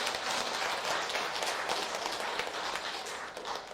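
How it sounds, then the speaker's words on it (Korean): Steady applause from a gathered audience thanking temple teachers, dense and continuous with no gaps, holding at a fairly even level throughout. "감사의 박수를 보내드립니다"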